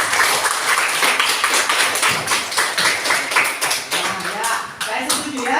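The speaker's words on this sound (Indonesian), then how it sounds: "kalian perlu memberikan tepuk tangan atau aplaus kepada teman kalian ya" A classroom of students claps for a classmate, a rhythmic, close run of hand claps with uneven loudness that keeps going for several seconds, with voices chattering underneath.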